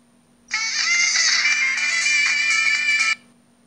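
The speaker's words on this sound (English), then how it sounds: "Here are some of the ringtones." Motorola V180 phone ringtone plays a bright, busy electronic melody for about two and a half seconds, loud and clear with a steady level and nothing else behind it.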